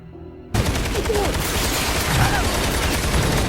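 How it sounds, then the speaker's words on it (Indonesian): After a quiet start, dense rapid gunfire erupts and continues as a sustained roar of overlapping shots, with faint shouting voices in the chaos. "mereka ini dapat serangan dadakan di sana yang ngebuat anaknya si Rachel ini kena tembakan"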